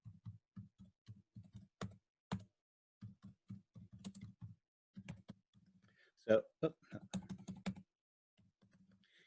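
Typing on a computer keyboard during a recorded lecture: quiet, close bursts of rapid key clicks separated by short pauses, with one brief spoken word.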